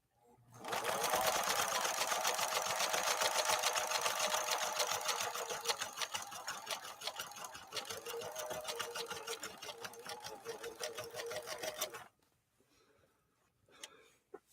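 A 1957 Phoenix 283F sewing machine, German-built by Adler, runs steadily for about twelve seconds sewing a blind hem stitch, a close, loud continuous mechanical whir with rapid needle clatter, then stops, leaving faint handling noises.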